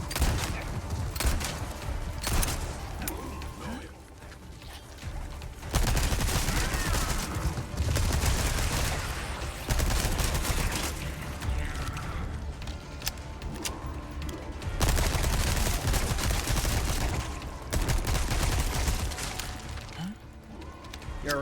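Gunfire in Resident Evil 4 Remake, repeated bursts of shots and heavy impacts through a continuous dense game soundscape with intermittent character voices.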